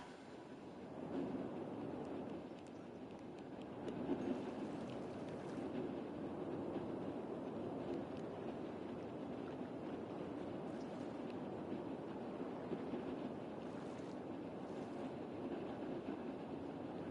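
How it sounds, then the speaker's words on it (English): Trains running on a largely underground rail system in the city-building game Cities: Skylines make a steady, moderate rumble with faint rolling clatter, continuous throughout and with no voices. "transportation, we have trains, a nice rail system"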